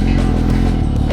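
Big bike motorcycle pulling away in first gear, with a loud, close, low rumbling engine throbbing steadily throughout, alone without talking.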